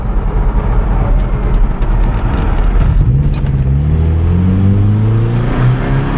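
The engine of a 1997 Nissan Pickup running lean labours with a rough, uneven idle, then sags and falters as it dies, the tone sliding down in a loud, close drone with no talk.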